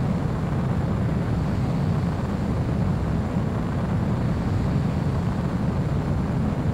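Jet aircraft on landing approach in Ace Combat 04: Shattered Skies, a continuous loud engine and wind roar, steady and unbroken throughout.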